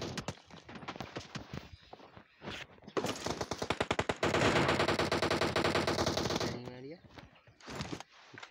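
Rapid bursts of automatic gunfire in a PUBG Mobile team deathmatch, with scattered single shots early on, then a loud sustained volley and trailing echoes, plus voices calling out over the action.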